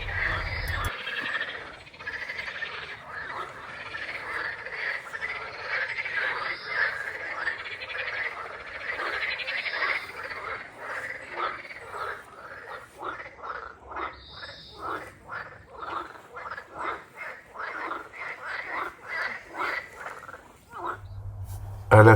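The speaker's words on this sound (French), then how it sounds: "une petite mare avec des grenouilles." Frogs in a small pond beside a picnic spot call in a steady chorus that turns into a fast, pulsing run of croaks, fairly close and continuous.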